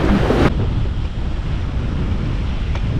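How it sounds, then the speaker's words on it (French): Rough sea waves wash around a small sailboat racing offshore, a steady loud roar of surf and spray mixed with wind buffeting the microphone, with no voices. "C'est pas tant le vent, c'est plutôt l'état de la mer."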